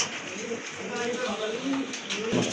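Rare pigeons at a market coo in a steady crowded murmur, with a person talking over the birds throughout.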